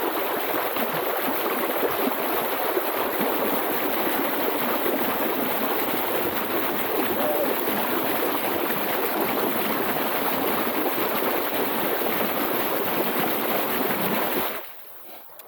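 DIY efoil electric motor spinning freely underwater in a thrust test, a steady loud churning water rush with a constant whine that carries evenly, then drops off abruptly near the end.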